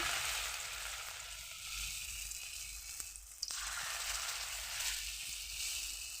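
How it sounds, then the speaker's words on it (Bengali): Potato fritters (aloo bora) frying in hot oil, a bright continuous sizzle that surges as pieces drop in, with a brief clink partway. "আমি একে একে সব দিয়ে দেবো তেলের মধ্যে।"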